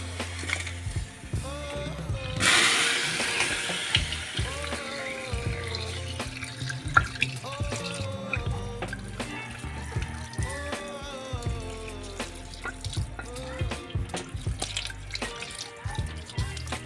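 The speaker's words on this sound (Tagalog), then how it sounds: "Tapos kulob natin to dito sa may tubig." Tap water running into a basin as a freshly cast lead weight is dunked, a loud splash followed by steady trickling and bright dripping plinks that continue throughout.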